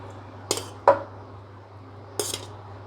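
A container set down onto layered mushroom biryani in a cooking pot, giving a few brief metallic clinks and knocks spaced over a few seconds, close by, over a low steady hum.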